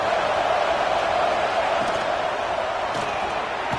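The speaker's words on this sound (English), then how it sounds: "And here comes the noise. This crowd is trying to inspire this defense to make a big red zone stop." A stadium crowd at a college football game roars steadily as the defense faces a red zone stand, a dense, loud, continuous wash of cheering with no breaks.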